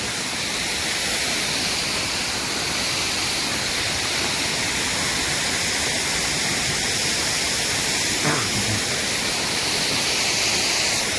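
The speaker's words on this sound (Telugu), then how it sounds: "నా ముందరైతే ఒక అందమైనటువంటి వాటర్ ఫాల్ది పైనుంచి పడేటువంటి ఒక సుందరమైన అందమైనటువంటి ఫ్లో ఉందండి" A waterfall near a tribal hamlet pours down from above in a constant, full roar that stays even and unbroken, with no speech over it.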